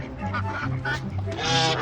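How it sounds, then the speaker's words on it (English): Ducks and geese honking on a farm alongside turkeys and guinea hens, a steady run of nasal calls that swell louder toward the end, with faint voices mixed in. "There's some of our ducks."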